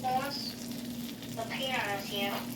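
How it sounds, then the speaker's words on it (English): A ribeye steak seasoned with Montreal steak spice sizzles in butter in a pan, making a steady, moderate hiss that runs the whole time, with brief soft voice-like tones rising above it now and then. "We're gonna put some butter. We're gonna start putting our steak just like that."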